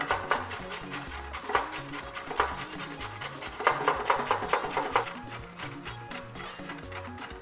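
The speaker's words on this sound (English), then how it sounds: "I'll grate the carrot." A carrot is grated by hand for a homemade shawarma, giving rhythmic rasping strokes, several quick scrapes in bursts, close and moderately quiet, with no talking.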